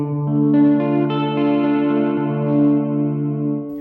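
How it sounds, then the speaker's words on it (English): A sustained electric guitar chord on the bridge humbucker pickup rings out loud and thick with a slightly overdriven tone, played alone and holding steady for several seconds. "You can really hear that volume boost when you switch to the humbucker."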